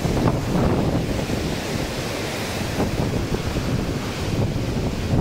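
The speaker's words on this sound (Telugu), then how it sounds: "ఆల్మోస్ట్ వేవే దగ్గర దగ్గరికి వచ్చేసింది." Surging floodwater at Prakasam Barrage in Vijayawada gives a continuous, loud rushing roar of churning waves, steady throughout with wind buffeting the microphone and no talk.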